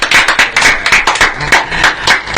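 A few people clap in a live talk-show studio for a band, loud and close, with distinct, rapid, slightly uneven hand claps repeating for about two seconds.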